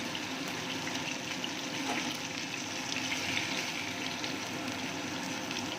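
Fish pieces lightly frying in hot oil in a pan for a curry give a steady, dense hiss and sizzle that holds evenly throughout, close up and without talk.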